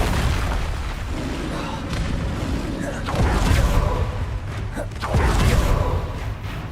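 Spell blasts from the Hogwarts Legacy video game, Repulsor among them: a dense, continuous rumble of game combat, with two heavier booming surges standing out near the middle and toward the end.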